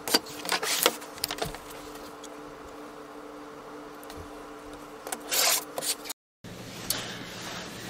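Scissors or a rotary cutter slice through quilt fabric along a border edge, giving a steady raspy cutting sound up close with a few louder rustles and a short gap of silence.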